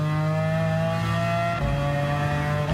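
Lexus LFA fitted with an F1 GTR engine swap in Gran Turismo 7, holding a steady, loud high-pitched engine whine with strong harmonic tones that dip briefly midway, then resume as the revs settle again.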